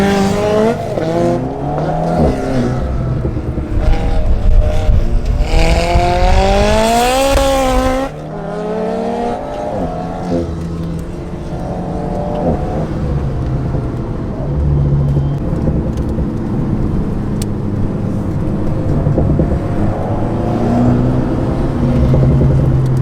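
An Ariel Atom sports car, 315 hp in a 520 kg body, driven hard, its engine loud and close as it rises and falls through gear changes, with tire squeal and a brief drop in noise partway through.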